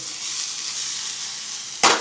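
Chili and garlic paste sizzling steadily in a hot pan for a Gujarati karela peel chutney, a constant close frying hiss with a sudden louder burst of spatter near the end.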